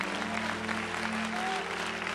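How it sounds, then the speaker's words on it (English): A church congregation claps and applauds in a dense, steady patter lasting the whole moment, with a faint sustained tone and voices murmuring underneath. "Somebody give the Lord a big clap in this place."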